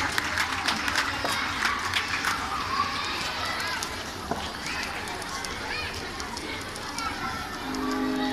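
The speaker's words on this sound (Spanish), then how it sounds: "fuerte los aplausos." A crowd applauds at a preschool graduation in San Miguel Copala, steady clapping with scattered voices and children's noise around it, moderately loud and continuous.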